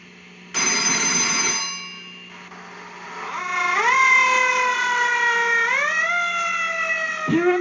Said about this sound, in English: the phone just rings and rings in an empty firehouse